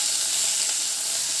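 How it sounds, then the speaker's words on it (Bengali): Drumsticks and young jackfruit fry in hot oil with a dense, even, hissing sizzle that stays loud and unbroken throughout. "সজনে ডাঁটা ও ইঁচড়গুলো তেলে ভেজে নেব।"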